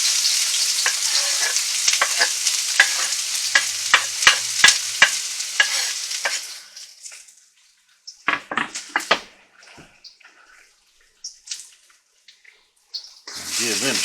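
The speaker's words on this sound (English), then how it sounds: "And put in the shallots" Shallots fry and are stirred in hot oil for homemade chili oil, giving a loud, dense sizzle with spoon scrapes for about six seconds, then fading to sparse clinks and softer crackles with a brief burst near the end.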